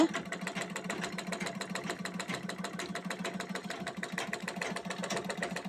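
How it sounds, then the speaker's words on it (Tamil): A sewing machine whose feed dog teeth push fabric through runs with a fast, even mechanical chatter at moderate loudness, continuous from start to end with no speech. "இந்த மிஷின் வந்து அப்படியே இந்த பல் துணிகளை மூவ் பண்ணிங்க வெளியில் தள்ளிகிட்டே இருக்கும்"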